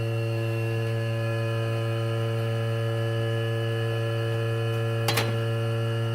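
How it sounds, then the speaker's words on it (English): A vacuum pump hooked to a vacuum pot for resin work runs steadily, giving a constant loud electric hum with strong layered overtones and one brief click partway through. "turn the vacuum pump on"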